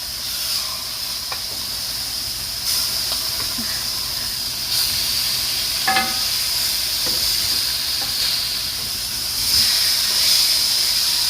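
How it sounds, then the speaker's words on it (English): Pork chops sizzle in a hot pan after being flipped, a steady close hiss running throughout with small crackles and pops scattered across it, no voices. "I'm going to go ahead and flip our pork chops."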